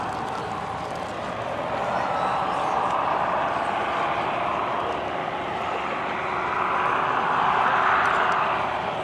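Steady loud roar of an Ilyushin Il-2 Sturmovik propeller aircraft engine at the ILA Berlin 2018 air show, droning continuously and swelling slightly near the end as the plane passes.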